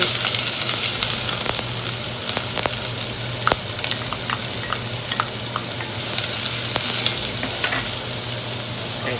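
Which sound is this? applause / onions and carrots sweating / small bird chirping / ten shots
onions and carrots sweating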